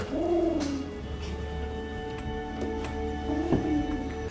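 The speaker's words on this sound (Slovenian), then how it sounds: "Samo golobe vzamemo s seboj." Pigeons coo in soft, throaty phrases, one near the start and another toward the end, over a faint steady background with a few light ticks.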